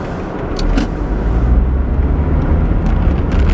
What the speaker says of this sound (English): look at this car